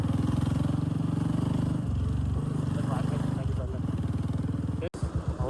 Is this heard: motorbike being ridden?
yes